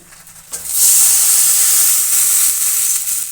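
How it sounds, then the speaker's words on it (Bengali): Red lentils and water are poured onto hot fried onions in a pan, and a loud, close hiss of steam and sizzle rises sharply, then holds steady and slowly eases. "এখন আমি দিয়ে দেবো এর মধ্যে কিছুটা মুসুরির ডাল আর দিয়ে দেবো জল"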